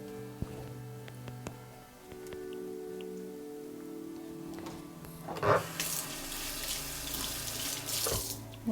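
Tap water runs into a sink while a Schimmel horse-grooming brush is rinsed under it, a soft continuous trickle that swells into a louder, splashing gush midway, with no voices.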